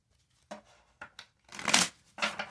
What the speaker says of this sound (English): I'm going to take that, and then I'm going to shuffle all the other ones